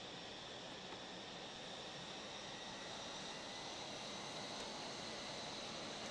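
Steady, dense roar of a Mirage F1 jet engine in a flight simulator, holding a broad rushing hiss throughout with a faint rising whine, constant and fairly quiet with no voices.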